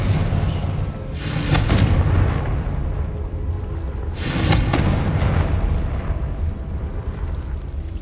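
Two loud Confringo spell blasts erupt in Hogwarts Legacy, each a sharp explosive boom with a bright crackling burst, spaced a few seconds apart over a constant low rumbling game background.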